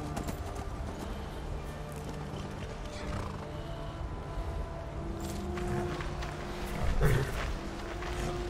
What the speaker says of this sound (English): Boom, and there's her horse.